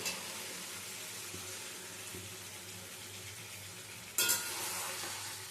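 Okra and potatoes cook in a spiced pan with a steady soft sizzle, then a small bowl of water is poured in, bringing a sudden louder splash and bubbling near the end.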